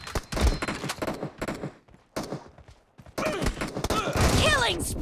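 Rapid bursts of automatic gunfire in the PUBG team deathmatch mode crackle loudly in dense volleys, pausing briefly before a heavier barrage resumes, with in-game announcer voice callouts mixed over the shooting.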